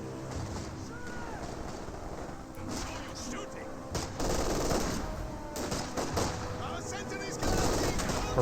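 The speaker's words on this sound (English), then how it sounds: "A rifle grenade being fired." A rifle grenade fired during a Company of Heroes battle, its blast mixed into dense gunfire and explosions while a commentator talks over the action.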